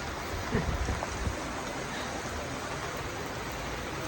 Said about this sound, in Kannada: ಹೌದು, ಆಗುತ್ತೆ ಮಳೆ.